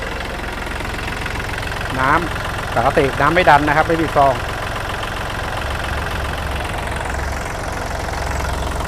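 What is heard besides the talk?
Kubota L4018 tractor diesel engine idling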